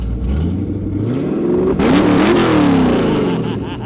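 A loud 5.0 Ford Mustang engine revs hard with electronic exhaust cutouts, the exhaust roaring up in pitch and then falling back, close by.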